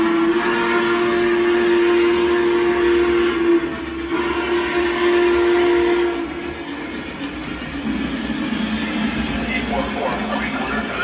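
A Lionel Legacy model of the Union Pacific 844 steam locomotive runs on track, a sustained whistle tone blowing for several seconds over continuous rolling rumble, with voices talking over it.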